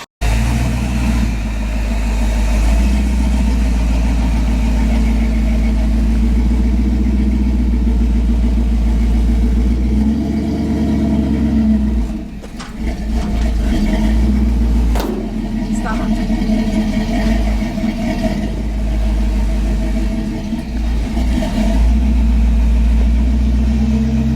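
A 1957 Chevy car engine runs loudly and unevenly on choke, surging and dipping as it struggles to idle, with people talking over it.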